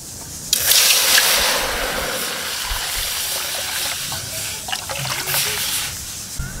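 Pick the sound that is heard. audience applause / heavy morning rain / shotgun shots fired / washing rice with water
washing rice with water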